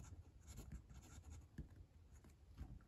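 A Wancher Dream fountain pen with a steel medium nib writes on paper, a faint, close, continuous scratch broken by short strokes, with no talking.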